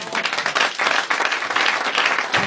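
A church congregation bursts into loud, continuous applause, dense hand clapping from many people filling the room.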